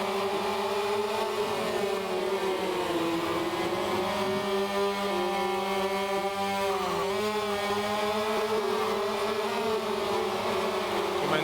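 A high, buzzing MotoGP racing motorcycle engine in the video game MotoGP 2013 drones steadily with shifting pitch, sustaining speed, loud and continuous with no talking.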